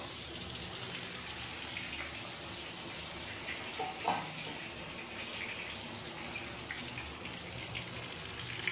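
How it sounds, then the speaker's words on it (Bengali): Eggplant pieces frying in hot oil in a pan give a steady, close sizzling hiss with one brief pop partway through. "এবার বেগুনগুলো একে একে নেব আর তেলের মধ্যে ছেড়ে দেবো।"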